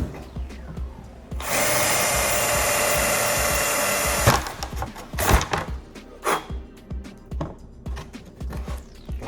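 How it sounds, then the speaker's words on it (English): A power drill bores a hole in the coin door panel of an Arcade1up Fast and Furious arcade cabinet, giving one steady, loud whirring burst of about three seconds, followed by scattered clicks and handling knocks. "I just take a drill and basically just drill a hole where the lights are gonna go"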